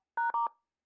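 A phone call tone in a video game: three quick, clean electronic beeps in a row, fairly faint and alone against silence.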